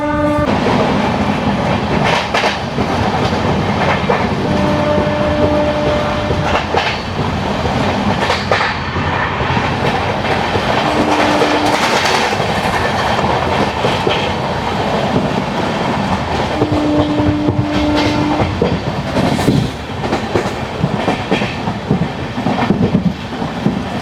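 Seshadri Express with new LHB coaches running between Gudivada and Vijayawada junctions: a steady, loud rumble of wheels and carriages with rhythmic clickety-clack and occasional horn blasts, continuous throughout.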